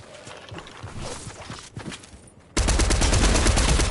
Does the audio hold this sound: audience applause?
no